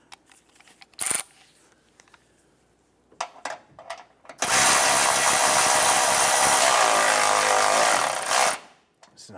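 Power tool tightening a radiator bolt on a 2015-2020 Cadillac Escalade, a few light clicks and taps followed by a loud continuous buzzing run of about four seconds up close, then stopping abruptly.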